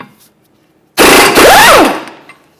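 A 32mm socket on an impact tool removing the rear axle nut of a 2015-2019 Subaru Outback, one loud, close burst of rapid hammering rattle lasting about a second, then silence.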